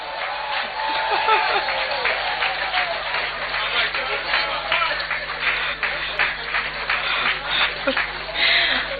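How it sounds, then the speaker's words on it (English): A crowd claps steadily throughout, with murmuring voices mixed into the dense, continuous applause. "Shall we give him a round of applause?"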